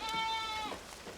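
A sheep or goat on a loess plateau lets out a single drawn-out, wavering bleat, fairly close, trailing off into faint outdoor background.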